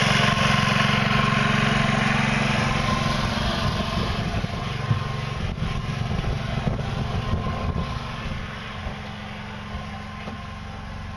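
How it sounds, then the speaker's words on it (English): A gas engine generator charges the electric drive aboard a hybrid sailboat, a steady close-up drone with a constant low hum that holds evenly throughout and has no voices over it. "what we have here is the gas engine generating electricity"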